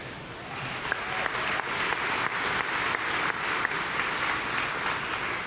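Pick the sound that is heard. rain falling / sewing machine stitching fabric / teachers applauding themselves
teachers applauding themselves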